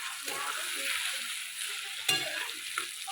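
Rice for masale bhat being stirred and sautéed in a pan, a steady soft sizzle with scraping stir strokes and one sharper clack partway through, close and moderately quiet with no talking.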